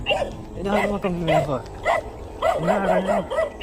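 Small dogs yap and bark in rapid, overlapping bursts at close range, sounding agitated, with speech mixed in alongside the yapping.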